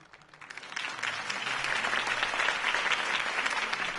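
A video game crowd breaks into applause that builds quickly and stays steady and loud, a dense wash of clapping with no voices standing out.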